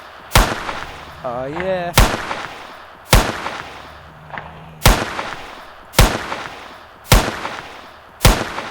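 Repeated loud gunshots boom out at a steady pace of about one per second while zombies are shot in the video game Zombie Shooter, and a man briefly exclaims between shots.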